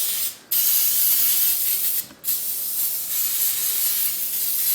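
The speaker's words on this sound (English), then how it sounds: "I spray it with my coconut oil spray, and I spray that really good" Two bursts of coconut oil cooking spray hit a hot waffle iron, each a short loud hiss separated by a pause. Steady sizzling and steam hiss continue close by with no talking.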